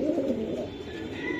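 A racing Giribaz pigeon coos in soft, rolling low phrases close by, repeating steadily through the short moment with no talking.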